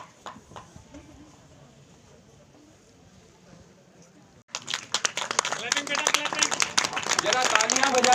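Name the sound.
audience clapping at a school ceremony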